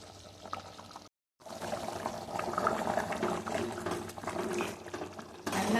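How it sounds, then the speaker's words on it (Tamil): Goat trotter paya gravy boiling and thickening in a pot, a steady bubbling, liquid simmer that runs close and moderately loud after a brief silent gap, with no talk. "கொதிச்சிருச்சு, நல்லா திக்காகிடுச்சு."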